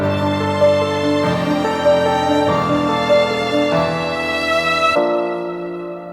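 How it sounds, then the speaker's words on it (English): String ensemble harmony layers swell under the tail of a melody in an arrangement, sustained chords shifting every second or so before the sound cuts off abruptly near the end. "so I added some harmony layers in the strings ensemble,"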